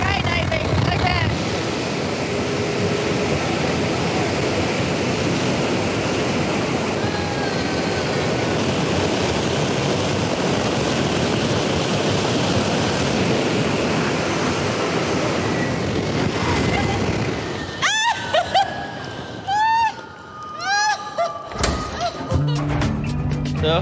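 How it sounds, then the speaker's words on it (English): A dense roar of strong wind from a wind-power blade test runs near 300 km/h and fills most of the span with loud, broad rushing noise. It then cuts out into choppy buffeting, where excited voices break in. "So, did you feel the power of the wind?"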